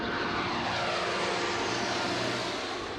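A Blue Angels F-16 fighter jet roars past, a loud broadband engine rush that fills the whole clip at a steady level with no voices.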